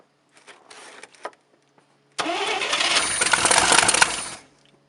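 A 1967 International 1200 truck engine on a jump booster in the Alaskan winter, brief cranking clicks first, then it catches and roars loudly for about two seconds before cutting off.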